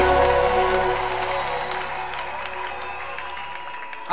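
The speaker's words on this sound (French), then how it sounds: "Acclame le Seigneur Jésus" A church congregation claps and applauds loudly in acclaim of Jesus, a dense burst of applause that gradually fades across a few seconds.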